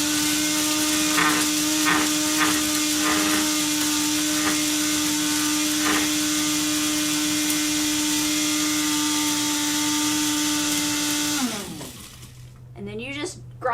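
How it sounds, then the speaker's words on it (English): An electric grinder pulses dehydrated garlic scapes into garlic powder, running loud and steady with a strong whine and rattling chunks for about eleven seconds before winding down, followed by quieter clatter. "you just grind it to the consistency you prefer"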